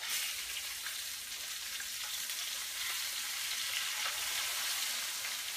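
Chicken fingers fry in hot oil, a loud, dense, continuous sizzle close by with constant bubbling crackle, with no one speaking.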